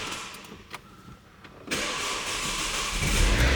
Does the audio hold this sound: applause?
no